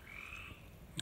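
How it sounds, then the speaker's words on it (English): Spring peeper frogs calling together at night, a steady high chorus of peeps holding throughout at moderate distance, with a brief louder knock near the end. "I hear the peepers."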